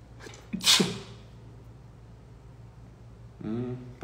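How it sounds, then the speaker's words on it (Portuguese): A single sharp sneeze bursts out close to the microphone in a quiet indoor setting, followed by a pause and then a person talking. "Só um minutinho que eu vou espirrar"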